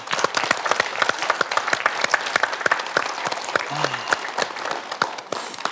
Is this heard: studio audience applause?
yes